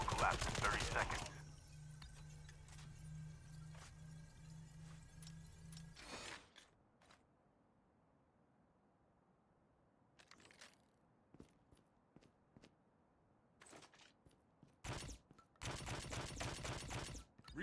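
Gunfire bursts in Call of Duty Mobile battle royale mode, with a sharp burst at the start and more rapid loud volleys near the end, separated by a stretch of quiet, under game voice callouts.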